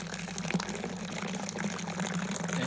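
Dark chocolate-coloured homebrew wort for an Orkney Dark Island Reserve clone gushes from a Robobrew/BrewZilla tap into a fermenter, a steady close liquid pour with a low resonant hum running underneath throughout.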